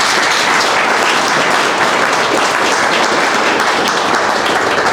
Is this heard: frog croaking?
no